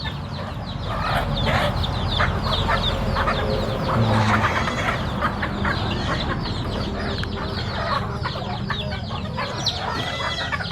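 Chickens at a rural household cluck and squawk continuously near and far, with a rooster-like call, dense farmyard bird chatter over a steady background.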